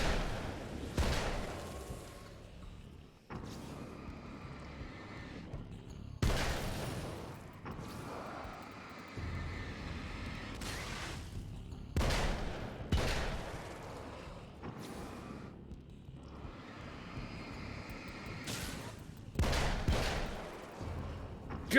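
Gunfire in the Alan Wake video game: loud, sharp gunshots at uneven intervals, some in quick pairs, separated by lulls of ambient game sound.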